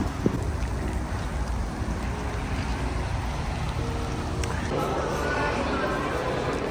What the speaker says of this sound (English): Oh my god, that wind, I wasn't ready for that.